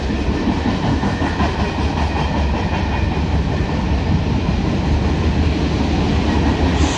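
A CSX mixed freight train rolls past close by, its cars making a steady, loud rumble with continuous wheel clatter and no pauses throughout.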